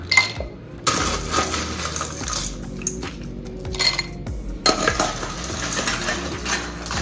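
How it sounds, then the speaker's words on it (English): Ice cubes clatter into a cocktail glass in a series of bright clinks and rattles over about seven seconds, with a brief lull before a second burst of tumbling ice, close and fairly loud. "So, fill your glass up, but not all the way, because it's always easier to top it up and just pour it out."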